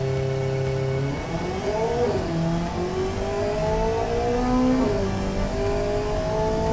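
Sports car engine in a racing video game, weighing 950 kilos with a 250 km/h top speed, revving up through several gear changes on an airfield track, a loud, close, rising whine that drops briefly at each shift.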